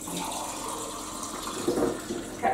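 Water runs steadily from a tap into an old jam jar indoors, a continuous splashing hiss that swells near the end as the jar fills.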